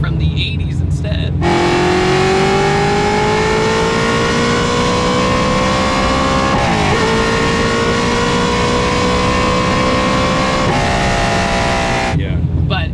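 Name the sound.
1970 Chevrolet Camaro LS7 V8 engine revving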